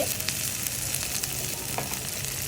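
Ingredients for a Bengali bharta fry in a pan with a dense, continuous sizzle, close and even, broken by a few light stirring clicks throughout.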